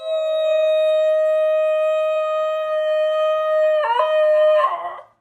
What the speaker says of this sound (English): that canine anomaly is the Basenji, and according to the American Kennel Club, it actually yodels